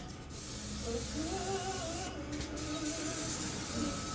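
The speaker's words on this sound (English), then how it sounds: "I will spray my griddle. A little butter spray." A continuous hiss of butter cooking spray hits a griddle for a few seconds, steady and close, with a faint whine underneath.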